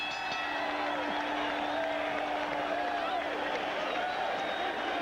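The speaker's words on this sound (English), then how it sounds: "The crowd going crazy." Boxing arena crowd roaring and cheering nonstop at the end of a fierce first round, a dense wall of noise under an excited commentator's voice.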